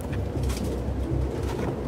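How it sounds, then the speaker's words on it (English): Pigeons coo in the Detroit: Become Human video game, a soft, low, repeated cooing close by inside a room where wild animals are kept, with no speech. "look at the pigeons in the crib"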